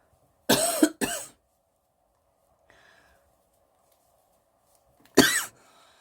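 Three harsh coughs from someone with a cold, two close together near the start and one a few seconds later, loud and close in an otherwise quiet room while crocheting.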